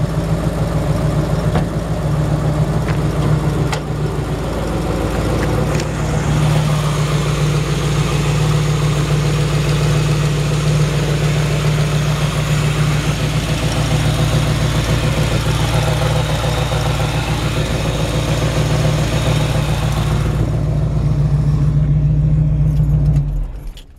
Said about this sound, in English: you can hear that exhaust leak just right here. It's that collector gasket